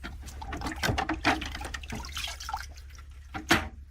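Soil block maker dipped and swished in a bucket of dirty water, giving uneven sloshing splashes and drips in several bursts, with a sharper splash near the end over a low background hum.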